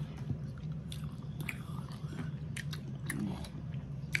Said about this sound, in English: you gotta really chew these up.